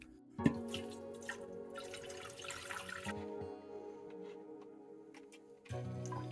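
Water trickles and drips from a small waterfall inside a jar paludarium, with a few louder plinks and a soft, continuous running sound.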